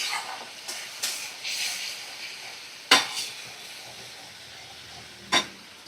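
Spice masala cooked down with sour yogurt for a chicken dish hisses with a steady broad sizzle, broken by two sharp clanks of a spoon on the pan.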